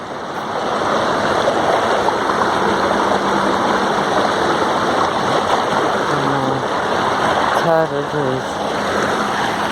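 A farm stream's flowing water rushes steadily and loudly throughout, a constant broadband wash, with a brief tonal engine-like hum and faint voices partway through.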